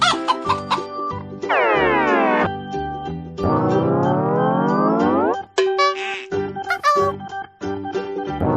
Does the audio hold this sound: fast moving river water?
no